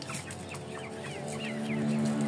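Indio Gigante and Shamo chickens clucking in a coop, a steady mix of close clucks and chirps over a low constant hum, with no talking.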